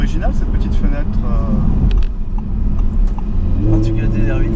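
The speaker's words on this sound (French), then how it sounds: "on a le V10 dans les oreilles, c'est super agréable" Audi R8 V10 Spyder 540 hp V10 engine driven in winter, a steady low mid-pitched drone with a brief swell partway through, heard from inside the open car under continuous talk.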